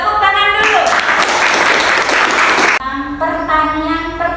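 Classroom applause from students during a lesson, a burst of clapping that breaks in between stretches of a teacher's speech and stops abruptly.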